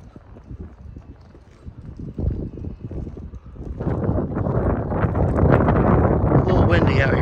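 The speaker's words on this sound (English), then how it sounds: "A little windy out here today." Wind buffets a microphone in rough gusts outside a 2015 Keystone Bullet 30RIPR travel trailer, growing louder and steadier partway through, with a person talking over the rumble.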